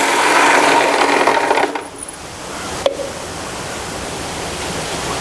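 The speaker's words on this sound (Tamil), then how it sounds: "இதை மூடிட்டோம் இப்போ அரைக்கலாம்" A mixer grinder loaded with ingredients and milk whirs loudly and evenly, then cuts out abruptly, followed by a sharp click and a softer, steady hiss that continues afterward.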